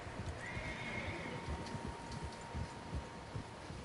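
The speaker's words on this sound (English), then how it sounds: "Horses, quite a few of them." In the Red Dead Redemption 2 video game, a horse gives a clear whinny over the soft, irregular clip-clop of several horses' hooves, all fairly quiet and without speech.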